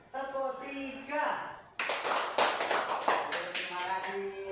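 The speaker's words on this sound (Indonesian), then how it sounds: "Tepuk 3." A school class of children clapping together in a classroom, a burst of several quick claps after a stretch of voices, with talking before and after the clapping.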